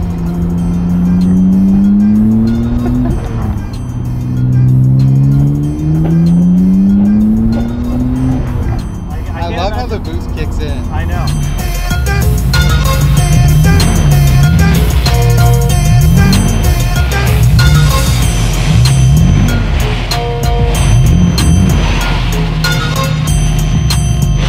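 A turbocharged Nissan Skyline GT-R RB engine idles and revs with a throaty, turbo-restricted exhaust note, rising and falling in pitch, loud and close, with some mechanical clatter throughout.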